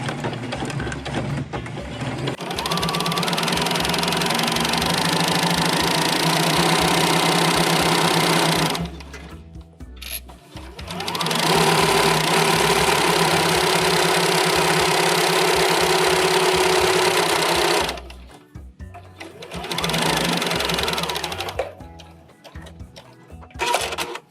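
A sewing machine runs a straight stitch along a grocery tote bag seam, whirring steadily in three long bursts separated by short pauses, close and loud with no talking.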